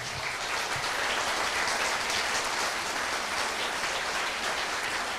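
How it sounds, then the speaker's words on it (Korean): A large audience at a Korean-Japanese sister church anniversary event applauds loudly, a steady, dense wash of clapping that holds evenly throughout with no voices over it. "자리로 돌아가 주시기 바라며 큰 박수 부탁드립니다"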